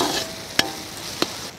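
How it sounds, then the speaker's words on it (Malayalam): Garlic and ginger fry in oil for a crab gravy, a continuous close sizzle broken by two sharp scraping stirs. "നമ്മുടെ വെളുത്തുള്ളി ഇഞ്ചിയൊക്കെ ഒന്ന് നന്നായി മൂത്ത് തരട്ടെ"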